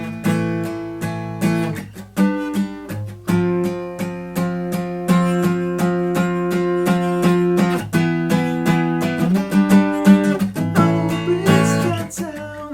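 Bright acoustic guitar chords played with a capo, strummed steadily in a rhythmic pattern, close and fairly loud, with a high, ringing tone throughout.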